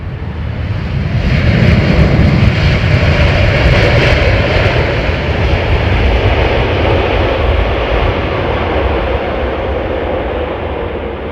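An Airbus A330 airliner lands at Heathrow with an undercarriage issue, its engines giving a loud, steady roar that swells early and holds broadband through the whole stretch, with no voices.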